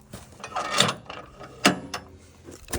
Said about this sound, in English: Now we undo our straps on both sides of the conveyor.